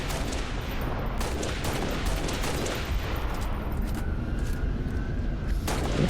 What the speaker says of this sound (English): Takes a bit over a full clip to kill it, so we're just waiting for its shields to pop. Shoot at it a bunch.